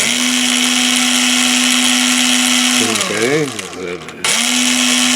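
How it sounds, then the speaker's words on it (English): A power drill whines steadily at high speed, then bogs down with wavering pitch as it bites into a ditch light housing before spinning freely again. "let's get started here, and we just drill away"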